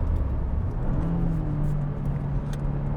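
A 2022 Subaru WRX with a six-speed manual, driven at rising speed, gives a low steady engine hum beneath road rumble, moderate and even throughout.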